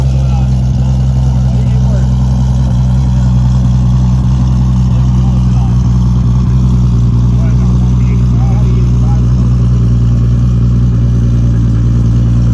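The engine of a modified sleeper Toyota Supra runs close by, a loud, steady low rumble with a constant idle drone and no clear revving.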